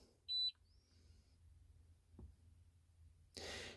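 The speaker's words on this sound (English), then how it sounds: "the unit will beep down there to tell you when it's doing stuff" A short, sharp electronic beep from a Bluetooth OBD scanner plugged into a 2007 Ford F-150 at the start, then a quiet room with a faint click. A louder burst of hiss comes in at the end.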